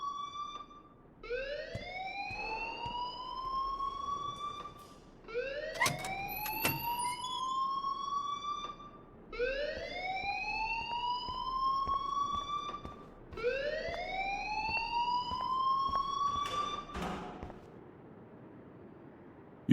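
A school alarm in the video game Life is Strange wails in four repeated rising sweeps, each climbing steeply then holding, a moderately quiet, steady electronic siren with no talk.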